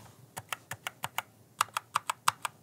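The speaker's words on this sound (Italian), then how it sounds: "vi faccio sentire un test audio dell'attuazione del rumore per quanto riguarda la tastiera con gli switch rossi" Keys on a mechanical gaming keyboard with red switches are pressed one at a time, about a dozen distinct clacks in an uneven rhythm, close and clear in a quiet room.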